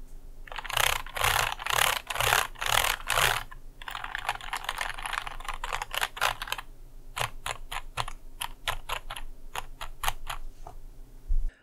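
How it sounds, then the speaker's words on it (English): Fast typing on a Filco Minila mechanical keyboard with rattly key chatter. Dense bursts of clacks come first, then lighter, scattered keystrokes, all close and clear. "even if you were just lightly tapping on the keys without activating it, it would cause really loud chatter in between the keys"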